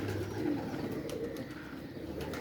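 A Langra Taddy pigeon coos close by in a low, continuous, throaty murmur. The cooing stays fairly steady throughout, with faint background noise and no speech.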